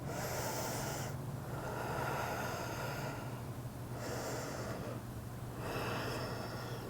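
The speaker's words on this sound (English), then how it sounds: "Take 3 long breaths here." Long, deep breaths taken while hanging in a yoga forward fold, with slow airy inhales and exhales that swell and fade over a steady room hiss, close by, with no talking.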